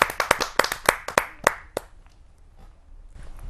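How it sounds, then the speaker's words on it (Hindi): Clapping at a Hindi kavi sammelan poetry gathering welcoming poet Rekha Chauhan: about ten sharp, close, separate claps in quick succession, then they stop and leave quiet room tone. "आइए जोरदार तालियों से स्वागत करते हैं रेखा चौहान जी का।"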